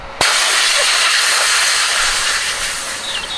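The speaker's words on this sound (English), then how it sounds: "there's going to be silicone oil in there and that's going to like spray out, not kind of as droplets but as a mist" A Hill compressor bleeds air, releasing silicone oil mist in a sudden loud, close hiss that starts abruptly and holds as a steady rushing spray, tapering slightly toward the end.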